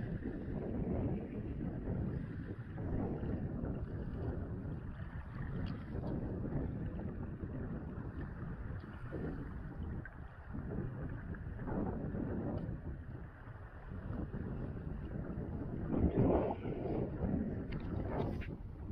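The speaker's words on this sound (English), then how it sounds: "The wind is just crazy, 22 knots" Strong 22-knot wind buffeting the microphone on an inflatable fishing boat out on the water, a loud continuous roar with gusty swells and no speech.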